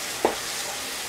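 Baingan bharta, an eggplant curry, cooks in a pan with a steady broadband sizzle, a brief stir-like scrape near the start, and no talking.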